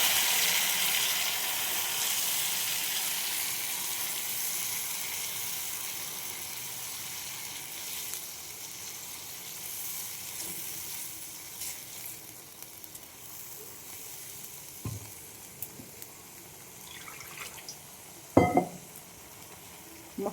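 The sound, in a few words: spice paste frying with potatoes in a pan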